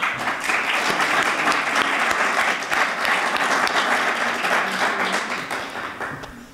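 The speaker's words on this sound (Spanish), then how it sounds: "la licenciada Irma Cue, a quien también pido un aplauso." An audience at a Spanish-language lecture on gender equity applauds, dense clapping from a crowd that holds steady for several seconds before tapering off near the end.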